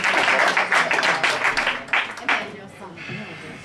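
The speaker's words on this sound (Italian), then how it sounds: "Un applauso!" An audience at a team poetry slam breaks into loud applause, a thick steady roar of clapping with a few sharper bursts, fading near the end.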